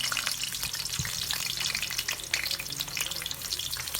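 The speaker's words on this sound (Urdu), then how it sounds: "آئل تھوڑا سا گرم ہو چکا ہے تو اب ہم نے اس میں کریلے شامل کر لیے ہیں۔" Bitter gourd slices sputtering in hot oil for keema karela: a dense, crackling sizzle that stays loud and close throughout, with a soft knock near the start.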